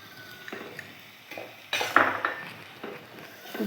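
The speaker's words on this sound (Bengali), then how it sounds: "একটু নাড়াচাড়া করব" Chili and turmeric powder are stirred in a pan for a puti fish curry, with a spoon scraping and knocking against the pan in irregular bursts. One louder clatter stands out near the middle, and there is no talk.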